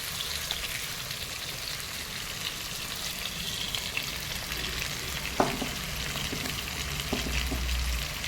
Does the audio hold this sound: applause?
no